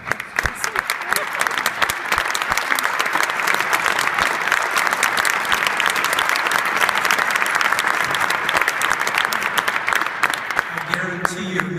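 Sustained, dense applause from a large audience at a journalism awards ceremony, honoring Dr. Christine Ellis, continuous and loud throughout, with a voice returning at the very end.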